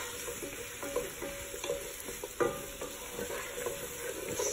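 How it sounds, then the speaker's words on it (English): Onions and garlic sauté in a pot for garlic soup, with a steady soft sizzle and intermittent scrapes and clinks of a spoon stirring the pan. "you can see the onions and garlic starting to saute now"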